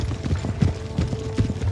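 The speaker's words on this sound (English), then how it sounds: "Sixteenth Light Horse Hussars" Cavalry horses from Empire Total War's Light Horse Hussars trotting, with steady repeated clip-clop hoofbeats at close range and a faint whinny.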